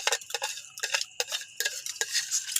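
Metal utensils scrape and clink against a pot in short, irregular strokes, a few quick scoops with brief gaps between them, close up.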